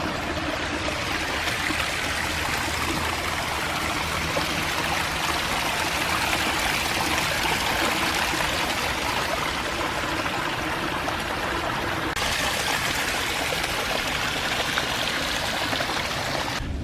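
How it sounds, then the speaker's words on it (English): Steady rushing water pours and splashes continuously from a waterfall, a constant broadband roar with no voices. "There's the waterfall up there."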